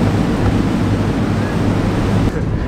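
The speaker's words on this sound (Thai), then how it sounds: "ลมแรงมาก" Strong wind buffets a boat on the Chao Phraya River in Bangkok, a loud, constant roaring rush with churning water beneath.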